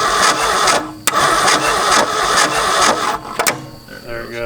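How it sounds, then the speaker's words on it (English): An abandoned Ford F250 cranks over with its fuel pump running, a loud rapid churning from the starter with brief pauses and knocks, close by and under a voice. "we're just gonna crank it over, let the fuel pump do its thing"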